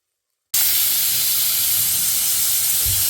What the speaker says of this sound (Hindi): जब तक हमारे प्रेशर कुकर में एक स्टीम लग गई